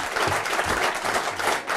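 Steady applause from a Dutch talk show audience for author Jan Brokken, a dense wash of many hands clapping, briefly overlapped by a low voice.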